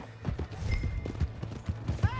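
A horse in Red Dead Redemption 2 clatters along in quick hoofbeats, mixed with creaks and scuffling at close range. Brief in-game voices come through as the animal moves.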